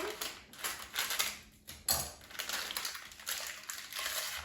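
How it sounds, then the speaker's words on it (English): A frozen pizza puff is pulled from its plastic packaging with continuous close crinkling and rustling, louder bursts where the wrapper is tugged, and no voices. "let me take out the pizza puff from its packaging"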